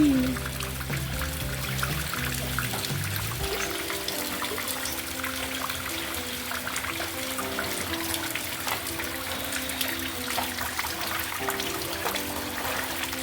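Rain falls during flooding while water flows past, making a steady, continuous rushing wash that stays at an even level throughout.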